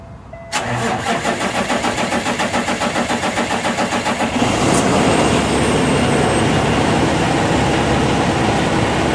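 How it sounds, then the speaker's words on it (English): A diesel truck engine cranks with a rapid rhythmic chugging for a few seconds, then catches and settles into a loud, steady rumbling idle. "So I'm gonna go ahead and start the truck."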